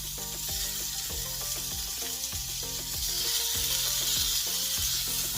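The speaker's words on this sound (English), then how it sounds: "My skillet has heated. Let's start with sauteing our veggies first." Vegetables sauté in a heated skillet for an omelet with a steady, close sizzling hiss, bright and continuous, while faint background music plays underneath.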